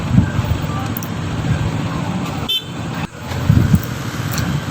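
Steady street traffic rumbles at a stoplight intersection in Pasig, with short car horn toots cutting through the continuous engine and road noise.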